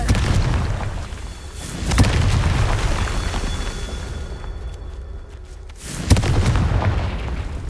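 Confringo fire spell explosions in Hogwarts Legacy: two loud, booming blasts about four seconds apart, each with a sharp crack and a rumbling tail over a continuous noisy rush.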